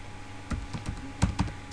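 Quick bursts of typing on a computer keyboard while C# code is entered, with close, crisp key clicks in an uneven rhythm and no talking.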